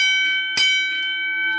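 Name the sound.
railroad crossing bell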